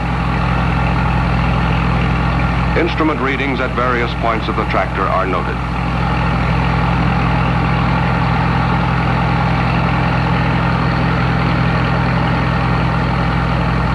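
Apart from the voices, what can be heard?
Oliver XO-121 experimental tractor engine running at rated speed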